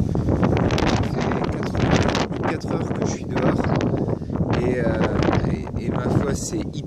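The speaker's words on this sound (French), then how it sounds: "J'espère que vous m'entendez bien, il y a beaucoup de vent" Strong outdoor wind buffets the microphone in loud, gusting bursts throughout, with a person talking underneath the rumbling roar.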